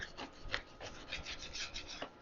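A knife cuts grass-fed beef heart into bite-sized chunks for stew, making soft rhythmic rasping strokes that repeat close by at a fairly quiet level, with no talking.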